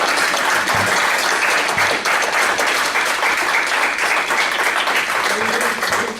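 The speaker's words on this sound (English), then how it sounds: "every single one of these people deserve our applause" An audience at a Christian chamber of commerce forum in Greenfield applauds local participants, a loud, sustained wash of many hands clapping steadily throughout, close and full.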